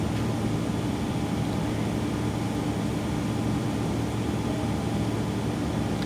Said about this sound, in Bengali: এরকম মেশিন ষোলো আরপিএমে রেখে পুরা মেশিনটা ঘুরে ঘুরে দেখতে হবে